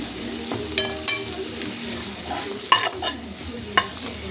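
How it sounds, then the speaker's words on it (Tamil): Turmeric and Kashmiri chili powder are sautéed in a pan: a soft, steady sizzle with occasional sharp spatula taps and scrapes against the metal, heard close up. No talking. "மஞ்சள் பொடி போட்டுக்கலாம் மிளகா பொடி நல்லா வதக்கி விடலாம்"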